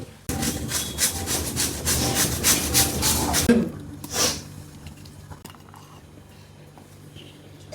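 Food for modak is grated by hand with quick, rhythmic rasping strokes close by for about three seconds, then the scraping stops and only faint room sounds and a brief knock remain.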